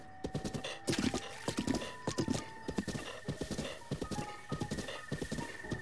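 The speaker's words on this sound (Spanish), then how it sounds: "Ya tenemos nuestro primer caballo." Horse hooves clip-clop at a steady trotting rhythm in Zelda Breath of the Wild, with a brief neigh. The hoofbeats are close, clear and continuous over a faint background hum.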